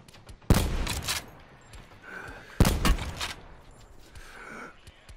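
Two loud bursts of rapid gunfire in the video game Call of Duty 4 ring out a couple of seconds apart, each trailing off into quieter game ambience.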